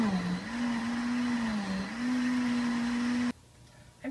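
A blender whirs steadily while pureeing pumpkin soup in an RV kitchen, a towel draped over a mismatched lid, its motor pitch wavering slightly before cutting off abruptly near the end, leaving near silence.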